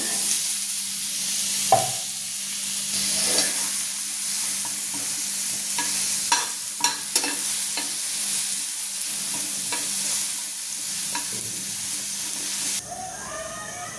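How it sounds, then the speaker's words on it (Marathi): Onion roasting in a pan alongside tomato, an even close sizzle broken by repeated sharp scrapes and clicks of stirring, steady and fairly loud throughout. "थोडा कच्चापणा गेला पाहिजे म्हणून थोडं भाजून घेऊ।"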